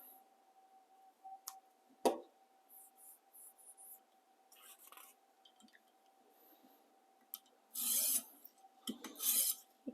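A chef knife is sharpened on an oiled 400 grit stone, with faint, scattered rasping strokes over a quiet steady hum and a louder cluster of scrapes near the end.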